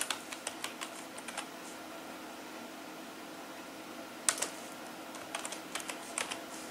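Keystrokes on a computer keyboard while entering HTML table tags, arriving in quick bursts of clicks with short pauses between, close and fairly quiet over a faint steady fan hum.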